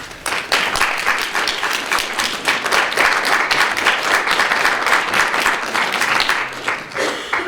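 Sustained audience applause after a poetry reading at a university visiting writers' event, loud and dense with many hands clapping steadily, tapering off at the end.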